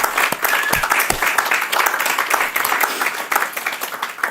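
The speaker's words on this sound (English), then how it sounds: "Please let's give Juha applause" An audience applauds at an online research launch event on protecting children online, dense steady clapping from many hands sustained for several seconds.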